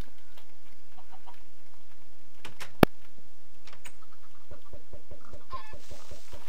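Minecraft chickens cluck in short, sparse bursts on a game farm, with scattered clicks and one sharp snap in between, fairly quiet and with no talking.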